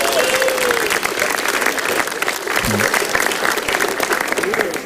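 An audience at a stand-up comedy show claps and cheers in a sustained, dense burst of applause that stays loud throughout.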